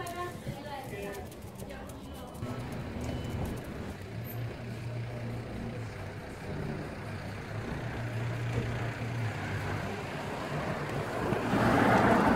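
Strong seaside wind buffets the microphone in a continuous roar, with surf-like rumble underneath and gusts building toward the end, while a person talks through it.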